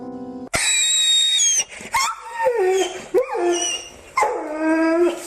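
A hungry dog begging for food yelps, whimpers and howls in loud, close, high-pitched bursts with short gaps between them and no talking.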